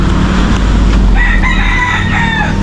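Chickens and ducks at feeding time, with a rooster crowing and fowl calling amid a loud, rumbling outdoor background noise.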